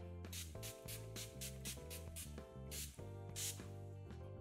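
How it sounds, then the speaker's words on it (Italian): A Scandinavia makeup setting spray is misted onto a face in several short, breathy hissing spritzes, spaced a second or so apart, close by and partly masked by steady background music. "vado adesso ad applicare lo Scandinavia Makeup Setting Spray"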